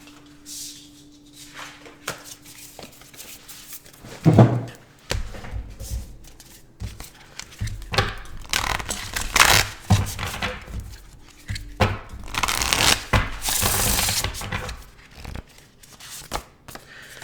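Tarot cards being shuffled and handled up close, with bursts of riffling and shuffling in the second half after quieter rustling.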